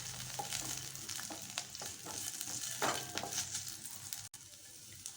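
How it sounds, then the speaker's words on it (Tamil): Green chilli with ginger and garlic sautéing in a pan for tomato soup, a steady soft sizzle broken by scattered stirring scrapes and taps, close and moderately quiet with no talking. "பச்சை மிளகாய் 1 போட்டு நம்ம கொஞ்சம் வதக்கிக்கலாம்"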